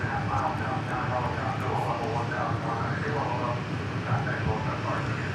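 A Jet Suite X jet rolls at Dallas Love Field, a steady whining engine roar heard at moderate distance beneath continuous talking.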